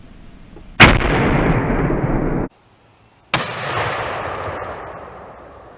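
A 12 gauge Nova blank round is fired from a shotgun, a loud sharp blast that rings briefly, followed after a short gap by a second loud report with a longer decaying tail.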